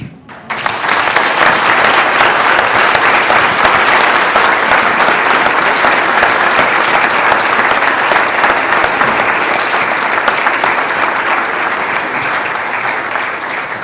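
A conference audience breaks into loud, continuous applause after a speech, a thick wash of many hands clapping that holds steady for over thirteen seconds with only a slight fade toward the end.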